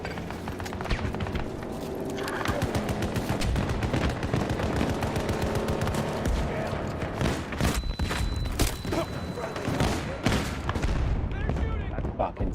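Video game gunfire crackles in dense, rapid bursts of shots, some sharp and close, over a steady noisy backdrop, with a voice talking at times.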